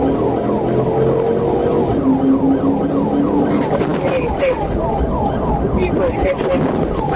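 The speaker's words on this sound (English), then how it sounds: "The officer activated his lights and siren and signaled a traffic stop." A police car siren wails, sweeping up and down repeatedly over road noise during a high-speed chase, loud and close, with a faint voice partway through.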